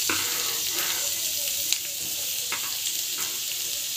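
Onions fry in hot oil for mushroom masala, a loud continuous sizzle broken by a few sharp scrapes and clicks from stirring, with no voice over it.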